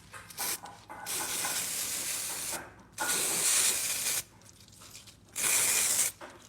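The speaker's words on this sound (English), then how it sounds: "Spray that on." Peel Tec stain remover sprayed onto timber coated in black exterior stain, heard as three long hissing bursts separated by short pauses, with no talking.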